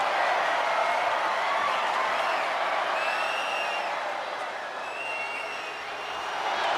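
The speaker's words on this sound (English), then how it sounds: "Jacob FATU feeding off the crowd, feeding off their energy." Virtual arena crowd in WWE 2K25 cheering during a Raw ambulance match between Randy Orton and Jacob Fatu, a steady loud roar of many voices with shrill whistles rising above it throughout.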